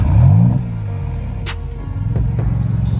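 A Maserati MC20 with a V6 engine at the Salon Prive car show in London gives a loud, close rev that swells and fades in the first half second, then settles into a steady, throaty rumble.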